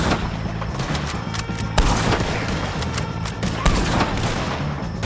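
Gunfire in Red Dead Redemption 2 during a shootout with O'Driscoll gang members, loud rapid volleys of shots overlapping with heavier booming blasts throughout, no speech.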